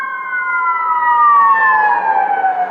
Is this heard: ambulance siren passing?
yes